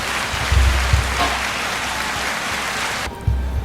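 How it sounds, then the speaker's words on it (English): Applause for a guest on a home broadcast: a steady hiss of clapping hands, fairly loud and continuous, with a few heavier thumps near the start and again near the end. "once again, another applause for that"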